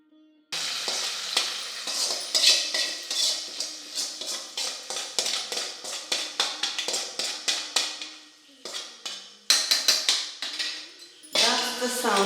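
Onions frying in hot oil for a chickpea curry, giving a steady dense sizzle with repeated stirring and tapping of a utensil against the pan, loud and close, broken by a few short pauses.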